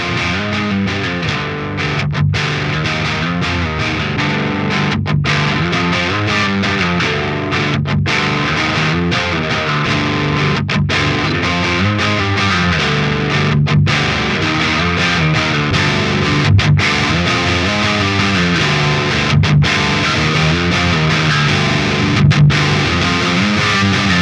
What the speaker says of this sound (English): of all the tones we've heard on the JCM800 so far